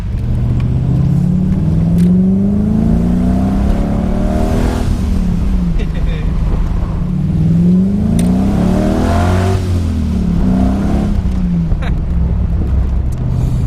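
A Porsche 993 Turbo engine revs loudly and close at an evening car meet, pitch climbing and falling through repeated throttle blips over steady engine drone.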